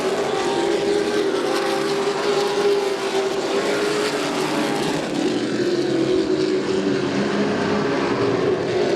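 Racing trucks roar around a race track, among them the number 12 truck of Adam Hall, the 73 of Teague and the 81, making a loud, continuous engine drone that holds steady with slight surges throughout.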